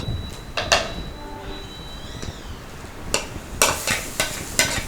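Chopped beetroot being stirred in a pan, with scattered clinks and scrapes of a spoon against metal, a few louder clusters toward the end over a quiet background.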